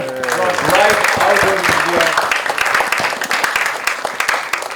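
An audience at a film trailer launch event bursts into sustained, dense applause over background music, with the clapping staying steady throughout.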